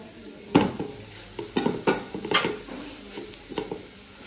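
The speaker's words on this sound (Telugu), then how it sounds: "మగ్గుతున్నప్పుడు ఒక్కొక్కసారి ఇట్లా గిన్నె కలిపెట్టుకోండి" A spoon scrapes and clanks against a cooking pot while someone stirs a simmering curry with a faint sizzle underneath. The strokes are irregular, close and moderately loud, and nobody speaks.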